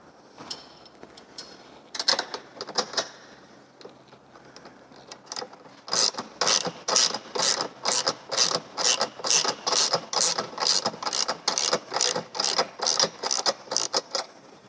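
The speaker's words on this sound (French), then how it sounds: "On vient ici desserrer cet écrou" A ratchet wrench loosens a nut on the gas cylinder of a massage table: a few scattered clicks, then a long run of quick, regular ratcheting bursts, close and crisp, with no voices.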